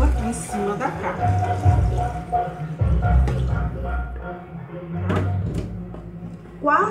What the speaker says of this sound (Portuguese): Aí você afasta a carne pro ladinho assim e vem com a água assim no ladinho